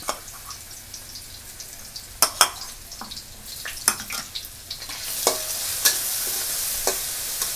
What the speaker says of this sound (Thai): แล้วก็จะเอากระเทียมกับ รากผักชีขานะคะ ลงผัดให้หอมนะคะ